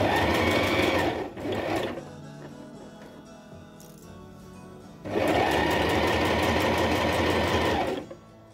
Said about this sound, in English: All I have to do now is just to sew around this hole and then flip it